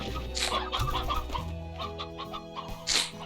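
A rooster in the video game Slime Rancher clucks repeatedly in short, bright bursts over a steady bed of layered game music.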